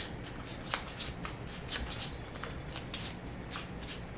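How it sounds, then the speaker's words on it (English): Playing cards being shuffled in repeated quick riffles, a crisp flutter of card edges close by with no talking. "I'm just shuffling."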